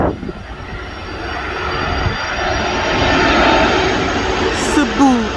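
A Cebu Pacific Airbus A330 jet airliner roars past at an airport, a loud steady engine rumble building slightly as it passes, with people talking over it.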